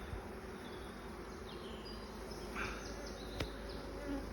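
Dense, steady buzzing of honeybees during an inspection of a cedar hive, a continuous insect drone with a few louder passes close by and one sharp click partway through.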